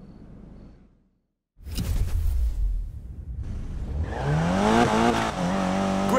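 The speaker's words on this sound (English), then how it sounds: "Lighting up those tires is a piece of cake." A car drifting in Need for Speed Payback, whooshing past before the engine revs hard and the tires squeal in a long, rising screech, loud and close.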